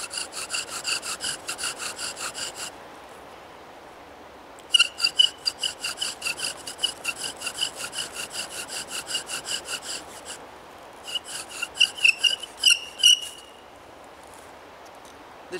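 Bow drill spindle rubbing in a cedar and cottonwood fire board, a rhythmic rasping squeak in fast back-and-forth strokes, close and fairly loud, broken by pauses where the poorly carved drill lets the bow slip.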